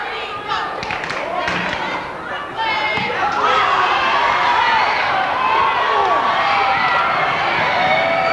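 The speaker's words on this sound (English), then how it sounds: "Here we have a crowd cheering on Puerto Rico." Crowd cheering at a TaeKwon-Do championship match, supporting Puerto Rico: a broad, steady roar of many voices fills the hall throughout, with scattered clapping and shouts close by.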